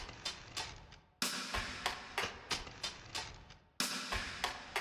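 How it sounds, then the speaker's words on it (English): A crisp, reverberant rim shot clicks repeatedly in a steady rhythm over a busy, quieter percussive loop, the whole mix fairly soft. "together with that loop, we have a rim shot that is just playing in these empty"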